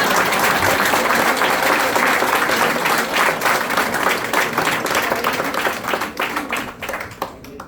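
Sustained applause fills a room at a retirement party, steady dense clapping from many hands that gradually thins out toward the end, with a few scattered claps trailing off.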